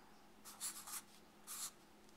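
Marker or pen writing interval notation, with a few short scratchy strokes in two brief bursts, close but faint against a quiet background.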